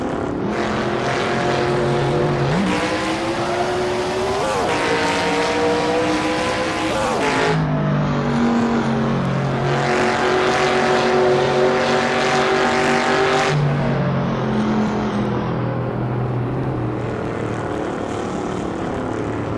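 Engines of American muscle cars roar steadily through a racing video game with turbo boost, loud and continuous, their pitch climbing through gears and dropping sharply at shifts, without any talking.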